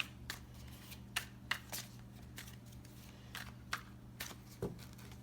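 Tarot cards being shuffled by hand, a run of sharp riffling and flicking bursts at an irregular pace, faint and close against a steady low hum.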